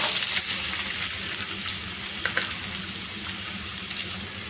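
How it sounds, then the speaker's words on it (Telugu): Sliced onion pieces and slit green chillies fry in hot oil for a korameenu fish curry, giving a steady, close broadband sizzle with a few soft stirring clicks and no talk. "ఈ ఉల్లిపాయ ముక్కలు పచ్చిమిర్చి కొద్దిగా ఫ్రై అయిపోవాలండి."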